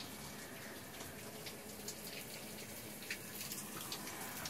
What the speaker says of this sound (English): And there's the outside shower.